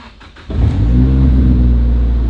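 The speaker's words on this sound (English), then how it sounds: "I guess I have to start out my straight piped SR20 DT with no cats and an open dump" A straight-piped Nissan SR20DET with no catalytic converters and an open dump revs hard up close, its loud, raspy engine note kicking in suddenly and holding steady without talk.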